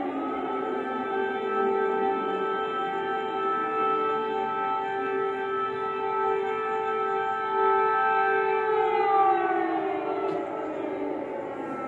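Air raid sirens wail over Kyiv during drone and missile attacks, several long sustained harmonic tones overlapping and slowly bending in pitch, loud and steady for the whole stretch with no voices.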